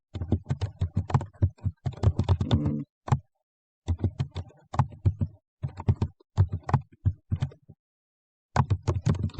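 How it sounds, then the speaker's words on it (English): Python code being typed on a computer keyboard, bursts of rapid close key clicks broken by short pauses, clear and alone. "Now, I'm going to type the code of what I need the function to do."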